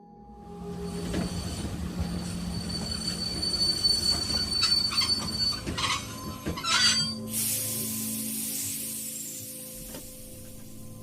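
A train pulls into a station platform, its steel wheels squealing in a long, rising screech over a low rumble, ending in a loud hiss of air brakes.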